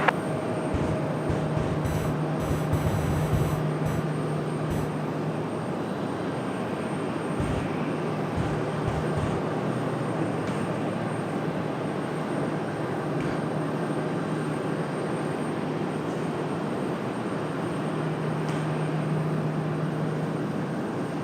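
A Southwest airplane at Raleigh Durham airport gives a long, steady engine roar and rumble at a moderate distance, holding level throughout with no talk.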